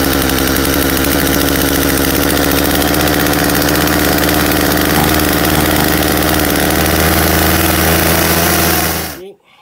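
Chainsaw engine catching after the choke is pulled and running at a loud, steady, rough idle for about nine seconds, then cutting off abruptly at the end.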